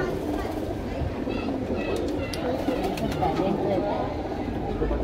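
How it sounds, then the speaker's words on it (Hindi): Sharangpuri pigeons coo in a loft in a Mumbai home, their soft murmuring steady and close amid continuous bird chatter and background noise, with a faint voice now and then. "चेक करो भाई कबूतर"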